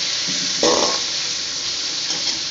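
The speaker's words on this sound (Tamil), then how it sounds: "இப்போ நம்ம வந்து தக்காளி போடுவோம் தக்காளி" Tomatoes added for a semiya dish sauté in a hot pan, giving one soft thud and stir as they go in, then a continuous bright, hissing sizzle close up with no voices.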